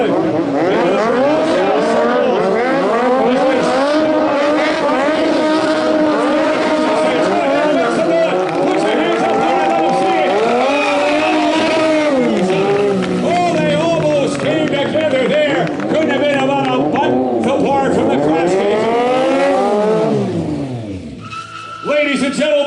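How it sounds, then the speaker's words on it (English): Two Team Empire stunt motorcycles perform a burnout at a motorcycle show in Abbotsford, BC, their engines revving loudly and continuously with rising and falling pitch and screeching tires, fading near the end. "The two of them into a classic burnout."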